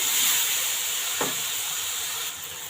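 Onions fry in a pan for an egg and pea curry, giving a continuous bright hiss and sizzle with one short crackle partway through.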